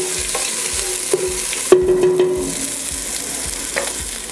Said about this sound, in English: you just want to saute this for a couple of minutes